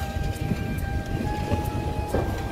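On its Kolkata–Agartala run, the Kanchanjunga Express curves into Lumding with a dense low rumble of wheels and cars, a thin steady squeal over the top and a few brief bursts, heard from inside the train without speech.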